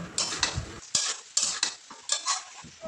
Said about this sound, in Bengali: পুঁই শাক আলু দিয়ে ভালো করে কষে নেব।